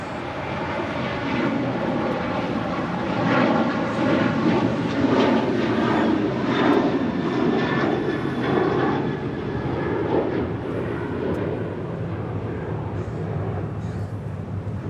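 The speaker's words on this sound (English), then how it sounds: "Next departure is United Airlines Flight 783 heading to Washington, Dulles" A United Airlines Boeing 737-900ER departs Los Angeles International Airport, its broad jet engine roar loud and steady throughout, with a faint high whine riding over the rumble and no talk.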